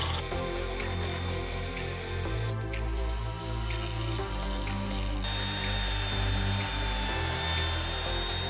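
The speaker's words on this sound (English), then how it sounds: "It's now time to drill out the bolt pattern so that the propeller can actually get bolted to the engine itself" A steady, loud power-drill whine runs throughout as it drills bolt-pattern holes in a wooden airplane propeller, its pitch shifting slightly as it bites, under a constant mechanical hum.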